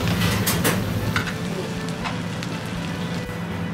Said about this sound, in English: Heat the sizzling plate until become hot.